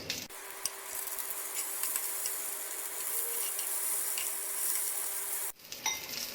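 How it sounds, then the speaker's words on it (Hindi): Andhra-style stuffed brinjal frying in a pan before being turned over, a constant bright sizzle with faint clinks that cuts off abruptly near the end. "बैंगन को पकते 3 मिनट हो गए हैं। अब इसकी साइड पलटी करेंगे।"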